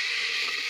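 About half a glass of water goes into a pan of frying masala. It gives a brief, bright rushing hiss that fills the whole moment.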